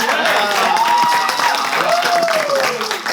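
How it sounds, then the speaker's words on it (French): Audience applause at a gathering, a brief burst of clapping from a crowd, with a voice talking over it. "Applaudissez Silalo."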